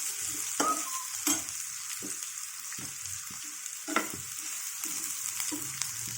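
A spice tempering for a ridge gourd curry made with milk sizzles in a pan, with repeated scraping stirs and sharp spatters breaking up a constant hiss.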